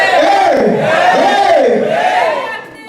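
A church congregation roars in loud, sustained cheering and whooping, a dense crowd of rising and falling voices that fades slightly at the close.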